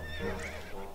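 A horse in the video game To The Moon lets out a short, loud whinny with a wavering, falling pitch, clear and close over a faint background hum.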